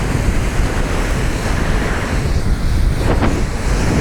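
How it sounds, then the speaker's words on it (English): Strong gusting wind around 20 knots roaring across the microphone while eFoil surfing on a 5-foot ocean swell, waves rushing continuously underneath, loud and close with no talking. "It's windy."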